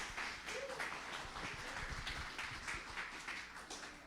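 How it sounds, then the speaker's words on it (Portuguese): A church crowd applauding steadily, a wash of clapping that holds at an even level throughout. "Vamos receber com a salva de palmas nosso pastor Ronald Matos"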